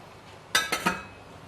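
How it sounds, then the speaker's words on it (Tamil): A metal lid goes onto a pot of simmering vathal kulambu with three quick clinks and rattles in close succession, close up and fairly crisp against a quiet kitchen background. "இப்போ நம்ம இது மூடி வச்சிடலாங்க"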